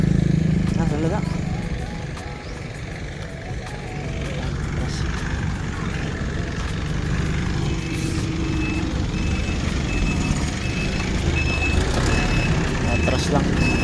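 A vehicle backs up outside a house in Cebu, its reversing alarm beeping steadily under a running engine while people talk nearby.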